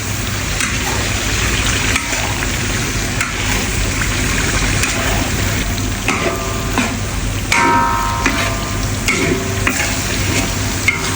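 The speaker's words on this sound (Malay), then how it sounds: "Sekarang kita gaul lagi dia." Steady sizzling of beef rendang frying in a pan, with scraping and stirring strokes throughout and no talking.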